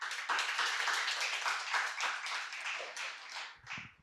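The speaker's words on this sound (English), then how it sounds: "Let's give them another round of applause." Audience at a speech competition applauds with fairly light, quick clapping that thins and fades out near the end.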